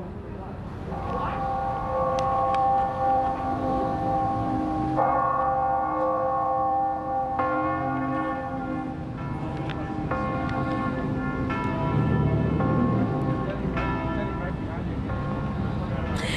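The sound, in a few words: church bells ringing in Dallas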